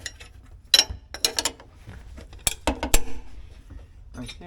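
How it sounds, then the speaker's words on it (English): A metal wrench clanks and ratchets against an engine bolt on a 1994 Jeep Wrangler YJ, with scattered sharp metallic clicks and knocks in irregular bursts, close and fairly loud, without speech. "My wrenches keep slipping here."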